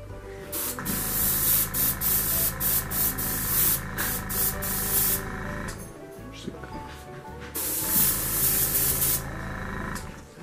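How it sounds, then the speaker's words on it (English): Aerosol gray paint spraying onto the trucks of an N scale model boxcar in long hissing bursts, close up, with a short pause in the middle before another burst. "we're going to take my newly minted gray and spray it right onto the trucks"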